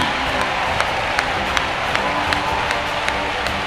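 A church congregation applauds and cheers to acclaim Jesus, a dense steady crowd roar with faint rhythmic claps recurring about every half second throughout.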